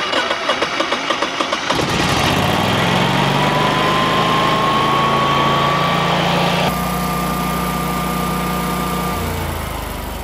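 Generac 22kW standby generator cranking with rapid starter clicks, then catching and settling into a loud, steady engine hum with a rising whine, running close by with no talking.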